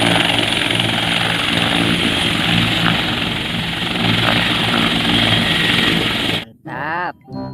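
A toy military helicopter makes a loud, steady whirring rotor drone with a high whine. It runs continuously for several seconds, then cuts off abruptly and a voice speaks briefly.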